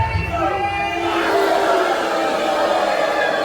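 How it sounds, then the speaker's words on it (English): A wrestling event crowd at AWF High Voltage roars and cheers continuously, a steady wash of massed voices filling the arena at full volume throughout. "listen to this crowd here"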